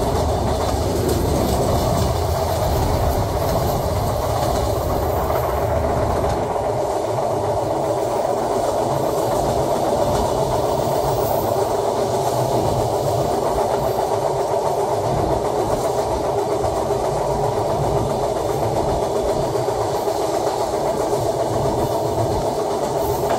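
The Rupashi Bangla Express crosses the Buriganga railway bridge over the Buriganga river, a loud continuous rolling roar with rhythmic clickety-clack from the wheels, heard from on board with no voices.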